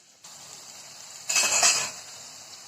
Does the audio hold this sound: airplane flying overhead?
no